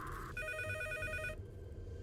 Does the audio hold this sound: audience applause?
no